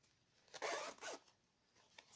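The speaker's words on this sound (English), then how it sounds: "This is our zipper." A zipper on a handmade fabric makeup bag is pulled open in two quick, close rasping strokes, then a faint tick follows, with nothing else in the background.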